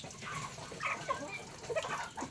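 Chickens cluck in short, scattered calls right after a morning feeding at a garden farm in Malang, mixed with faint bird chatter over a steady outdoor background.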